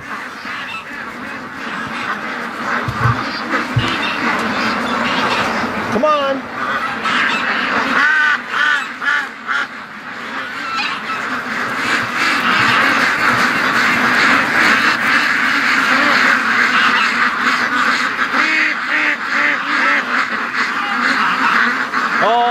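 A flock of domestic ducks quacks steadily and loudly as they are let out of a pen by a lake, with a voice speaking briefly among the constant chatter.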